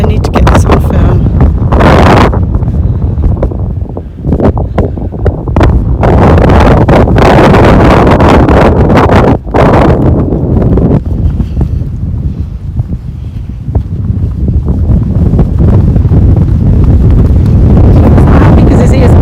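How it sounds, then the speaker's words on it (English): Strong gusty wind batters the microphone outdoors with loud, roaring buffeting that rises and falls in bursts throughout, and a voice is faintly heard beneath it. "very windy."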